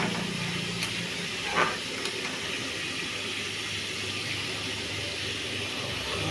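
Vegetarian daliya khichuri with fried vegetables simmering in a pot, giving a soft, steady hiss of steam and bubbling, faint and continuous, with a brief clink partway through.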